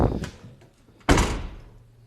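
A Toyota T100 pickup door swings shut with one solid, close thunk about a second in, ringing briefly, with a fainter knock of handling just before.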